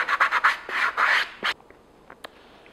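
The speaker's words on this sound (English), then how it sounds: "Okay, now my sanding stick, which I'm going to have my 120 grit sandpaper." Sandpaper of 120 grit on a sanding stick rubbing over foam horns, evening out rough areas: a run of quick, close rasping strokes for about a second and a half, then a few faint scrapes and near silence.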